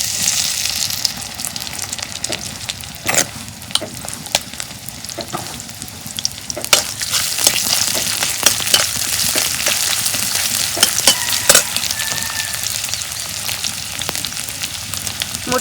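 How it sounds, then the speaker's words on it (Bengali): Steady sizzling of leftover rice frying in oil with chopped onion, crackling and popping continuously with scattered sharper stirring scrapes, close and fairly loud, no voices. "সেই জন্য আমি ভাতগুলা ভাইজে নেবো তেল দিয়ে।"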